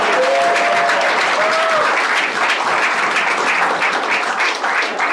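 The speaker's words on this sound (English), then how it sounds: "give them one last applause." A crowd at a school board meeting applauds steadily and loudly, dense clapping sustained throughout, with a few whoops rising above it.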